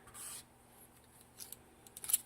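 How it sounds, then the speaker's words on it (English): Scissors snip through sewing thread during a lace fabric flower craft, giving a few faint, quiet cuts close by in a mostly still room. "grab my scissors and cut my thread off"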